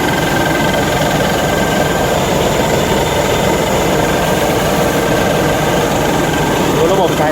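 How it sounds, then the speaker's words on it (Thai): A 2021 rice combine harvester with twin turbos runs steadily, a loud, constant engine drone with mechanical vibration that carries on without a break. "มาดูระบบของรถเกี่ยวนะครับ"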